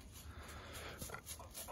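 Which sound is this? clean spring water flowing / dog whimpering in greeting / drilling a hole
dog whimpering in greeting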